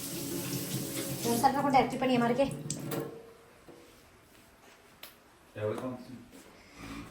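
A tap runs with a splashing, rushing stream at close range while a casserole dish is rinsed, fading out after a few seconds as a person talks over and after it.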